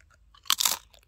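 One close, crisp crunch of crispy food being bitten and chewed during a meal, a short sharp burst in an otherwise quiet moment.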